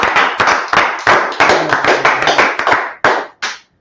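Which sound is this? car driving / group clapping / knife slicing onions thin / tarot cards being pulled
group clapping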